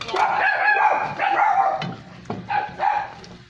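A pet dog barking and yipping indoors in a kitchen, a few short barks in bursts, moderately loud and close, with no talking over it.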